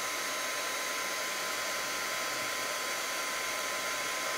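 Steady, loud hiss and whir of a heat tool held close while it heat-sets glitter embossing powder, running without a break and with no voices.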